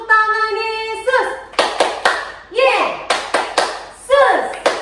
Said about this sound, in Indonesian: kita tepuk tangan Yesus dulu ya, biar lebih semangat